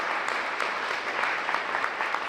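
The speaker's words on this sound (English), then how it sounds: "So give a round of applause for that." Audience at a school district state-of-the-district address applauding, a steady wash of clapping hands from a crowd at moderate level with no voices over it.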